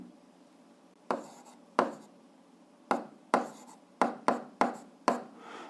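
A pen writes out an algebra solution on paper, about nine crisp, close scratchy strokes and taps arriving irregularly, with quiet pauses between them and no voices.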